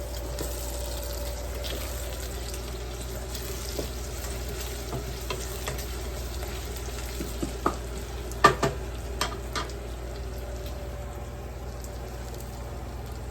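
Kale being stirred in a saucepan on the stove, a steady low sizzle with scattered scraping and clinking knocks of the spoon against the pan, brief sharper taps clustered toward the end, no voices.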